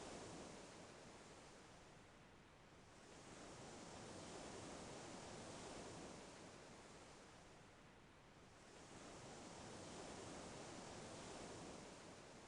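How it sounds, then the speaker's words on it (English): Gentle ocean waves wash in a soft, broad rushing hiss that swells and recedes slowly in two long cycles, quiet and even. "Just nice, gentle ocean sounds."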